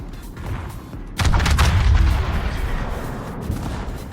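Main guns on a warship in a naval battle game, the Sibir, fire a loud, deep booming salvo. A rumbling tail follows and slowly fades under a steady background hum.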